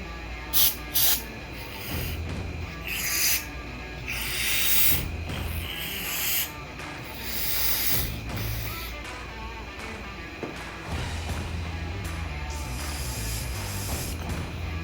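Several bursts of spray hiss out from an aerosol can of cleaner into an ATV carburetor, some short and some drawn out, close up, with light mechanical clicks and handling between them.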